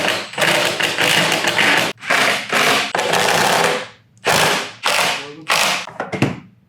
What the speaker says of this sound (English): What we're gonna do is we're gonna drive our number 3 screws through here.